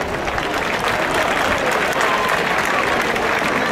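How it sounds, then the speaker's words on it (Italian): Steady, dense applause from a large outdoor crowd at an Italian Air Force Frecce Tricolori air show on the Reggio Calabria seafront, continuous and fairly loud throughout with no break. "Grazie dell'applauso."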